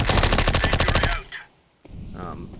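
Rapid automatic gunfire in Counter-Strike on the Inferno map rattles out loud and close in a fast burst, stops abruptly, then a quieter shot or two follows after a short gap.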